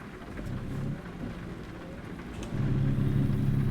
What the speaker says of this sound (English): That was lightning, dude.